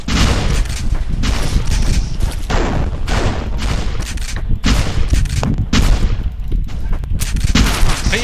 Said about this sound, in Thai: คลิกซ้ายยิงคลิกขวาปาระเบิด